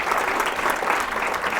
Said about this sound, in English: Another round of applause for Jessica